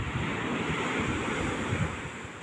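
Ocean surf breaks and washes continuously at Playa Carrizalillo beach, a steady broad roar mixed with wind buffeting the microphone, with no voices.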